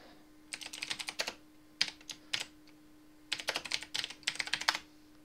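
Bursts of quick clicking keystrokes on a computer keyboard while typing a Linux package name, close and crisp, in several short runs separated by pauses.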